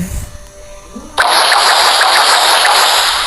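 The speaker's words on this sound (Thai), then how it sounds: "นี่เสียงสโนบอล" A snowball is thrown in the Alpha version of Minecraft, and a sudden loud, hissing whoosh cuts in after a moment of quiet, holding steady and close until the end.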